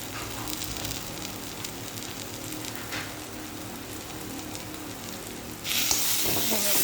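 Small tingora fish frying and being stirred in a pan for an Assamese mustard curry, a steady close sizzle with scraping stirs, growing louder and brighter near the end.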